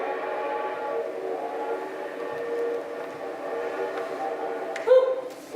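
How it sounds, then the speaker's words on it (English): A distant train drones on in a steady, sustained tone heard from down a street at night, with a brief louder clatter near the end. "you can hear the train all the way to Pontyclun"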